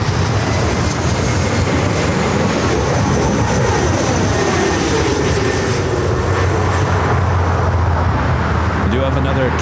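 A Lufthansa airliner's engines spool up for takeoff as a loud, steady jet roar rises and holds, with a sweeping pitch that shifts as the aircraft moves. Talk runs over it throughout.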